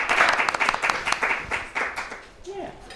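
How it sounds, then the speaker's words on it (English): Audience applause at a creative workshop, a dense patter of clapping filling the first part and thinning out, with a voice speaking over it toward the end. "we can applaud"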